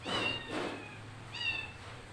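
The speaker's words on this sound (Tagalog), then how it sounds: "Ingay pa ng pusa." A cat meows twice, fairly close, with a short pause between the drawn-out cries and no talking.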